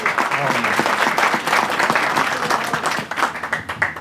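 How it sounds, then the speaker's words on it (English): A crowd at a hospital topping ceremony gives performers another round of applause, with steady, fairly close clapping throughout and a few louder individual claps toward the end. "Let's give them another round of applause."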